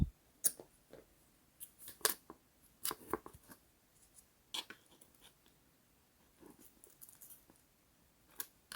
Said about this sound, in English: You want to cut your yarn at this point